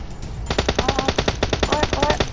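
Rapid automatic gunfire in PUBG Mobile, a loud, evenly spaced burst of about twenty shots following a brief quiet moment.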